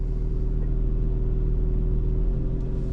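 A Lotus Emira accelerating hard in track mode gives a deep, steady engine rumble and drone from inside the car, loud and continuous with a slight pulsing throb and no voices.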